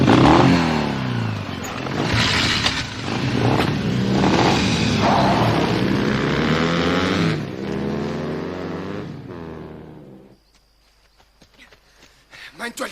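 A car engine revs and accelerates as the vehicle pulls away on a rural track, loud and sustained for about ten seconds before cutting off into near silence, with voices talking over it.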